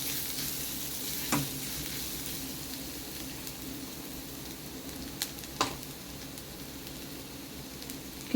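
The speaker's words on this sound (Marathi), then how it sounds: "परतून घेणार आहोत" Bombil (Bombay duck) fish sautés in a pan with oil, giving a quiet, steady sizzle and a few sharp clinks of a spatula stirring, close by, no voices.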